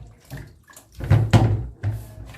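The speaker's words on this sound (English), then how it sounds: "Again, I'll rinse with clean water." Fruits and vegetables rinsed with clean water, with several short splashing, sloshing bursts of water at close range, separated by brief quieter gaps.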